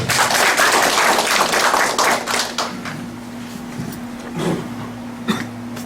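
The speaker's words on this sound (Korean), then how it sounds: "여러분 박수로 환영해 주시죠" Audience applauding at a community briefing on a neighborhood park and downtown road project, clapping loud at first and then thinning into scattered claps before fading out.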